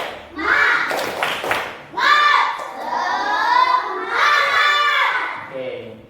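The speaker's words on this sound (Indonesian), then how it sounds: "Tepuk semangat." Classroom children chant and clap in unison in a spirit clap routine, loud and close, several rhythmic bursts of voices with claps over about six seconds.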